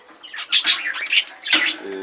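Loud, harsh squawks from a pet parrot chick, coming in several bursts up close, with a few shorter chirps mixed in between them.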